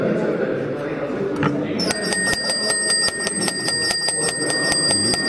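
Märklin gauge 0 tin toy level-crossing bell, cranked by hand: after a short pause, a rapid, steady run of bright metallic dings rings out close by over background voices and room noise.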